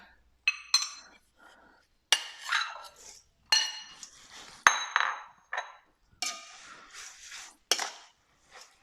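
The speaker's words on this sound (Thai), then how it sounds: "ทีนี้เราก็นำวุ้นเส้นลงไปคลุกเลยนะคะ" Glass noodles and shrimp tossed in a pan for a baked-shrimp-with-glass-noodles dish, giving a series of short clinks and scrapes of utensils against the pan in separate bursts, close and moderately loud, with no talking.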